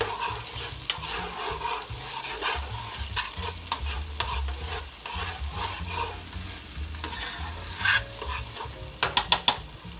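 Minced garlic frying with cauliflower fried rice in a pan, a steady close sizzle with repeated scraping stirs and a few sharper utensil clicks near the end.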